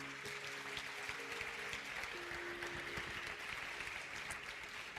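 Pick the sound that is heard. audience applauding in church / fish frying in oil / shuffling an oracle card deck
audience applauding in church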